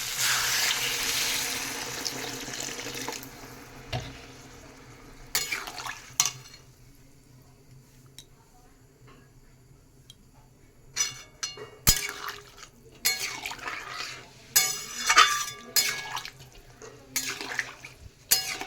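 Water is poured into a pan of baan fish curry to make the gravy, with splashing and sloshing bursts, a few clinks, and quieter stretches between.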